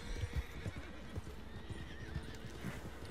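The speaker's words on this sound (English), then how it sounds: "Oh, more horses." Horses in the video game Red Dead Online clip-clop steadily along at a moderate distance, hooves thudding in an uneven rhythm while a whinny rises partway through, alone with no talk.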